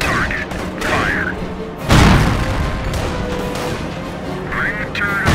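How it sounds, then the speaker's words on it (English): Tank cannon fire in the video game Company of Heroes: one loud, broad boom with a deep low-end thump erupts mid-clip amid a dense battle soundscape, with voices speaking before and after. "Keep it moving, cannon on target. Fire."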